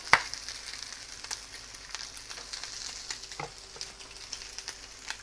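Good-quality bacon rashers frying flat in a pan, a steady soft sizzle with scattered crackles and pops, close and moderately quiet, with no voices.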